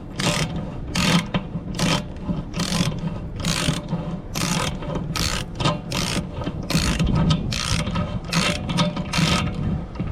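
Ratchet wrench backing a thread tap out of a hole on an RV water heater, a series of irregular sharp clicking bursts over a low rumbling background, close and moderately loud.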